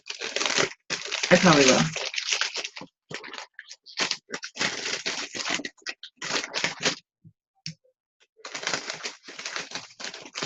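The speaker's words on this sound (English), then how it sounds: "I'm going to stick my hand in one of these plastic bags" Hand pushed into a small crinkly plastic kit bag, with loud irregular crackling and rustling bursts broken by short pauses, and a voice speaking briefly amid the noise.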